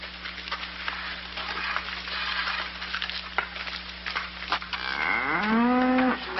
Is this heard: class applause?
no